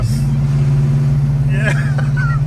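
A 1969 Dodge Charger R/T SE accelerating on the road, its V8 engine droning loud and steady with a deep, constant hum throughout, with faint higher whines near the end.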